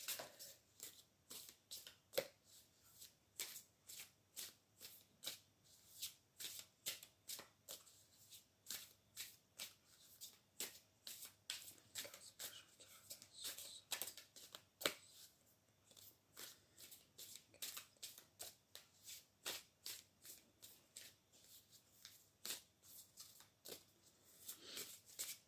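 Tarot cards are shuffled over and over in a quiet room, each riffle a soft crisp burst, repeating in a steady, uneven rhythm close to the listener with no voices.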